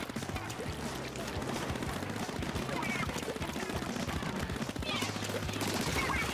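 Rapid ink-weapon fire from an online Splatoon 2 match, a dense continuous rattle of shots that runs throughout under game music and effects, with players talking over it.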